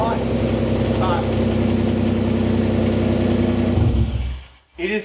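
A turbocharged Mitsubishi Pajero engine with its exhaust dumping at the front diff idles loud and close in a steady, rumbling drone, then cuts out briefly near the end before picking up again.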